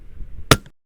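A single sharp sniper rifle shot cracks out loud and close after a brief low wind rumble, followed by a short echo and then silence.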